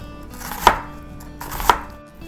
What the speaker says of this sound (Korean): 얘도 그냥 얄팍얄팍하게 썰어서 준비를 해 놓을게요.